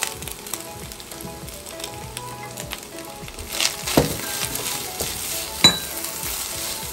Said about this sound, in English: So we are going to fry this until the onions is properly cooked